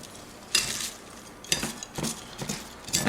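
Turkey burger ingredients are mixed in a bowl, with a utensil scraping and clinking against the sides in several short bursts between quieter moments, no voices.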